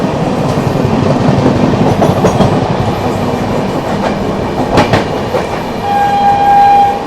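A Purushottam Express train runs alongside and overtakes on the Delhi to Dehradun line, heard from an ICF first AC coach: a steady, loud rail roar with rhythmic clatter throughout and a long horn blast near the end.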